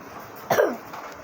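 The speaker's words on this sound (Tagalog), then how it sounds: "Sorry guys kung ubo ako ng ubo kasi inuubo ako." A single sharp cough, close and brief, against a quiet background.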